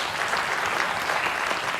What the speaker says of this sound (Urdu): میں ان کے لیے بھی چاہوں گا کہ آپ لوگ تالیاں بجائیں